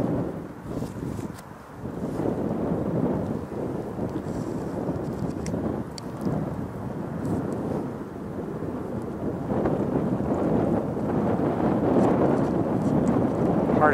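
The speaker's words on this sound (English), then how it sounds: "That's the wind." Wind buffets a microphone outdoors at a great blue heron rookery, a constant loud low rumble that swells and gusts throughout, with no voices.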